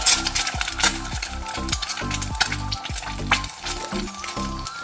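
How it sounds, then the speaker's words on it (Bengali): An egg sizzles in hot mustard oil, a loud steady crackle broken by rhythmic metallic scraping and tapping of a spatula against the pan. "এবার আমি তেলের মধ্যে একটা ডিম দিয়ে দেব।"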